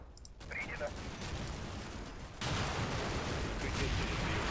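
Mark 19 grenade launcher fire in the Combat Mission game comes as a dense, continuous rumble of distant bursts that grows louder partway through, with voices present.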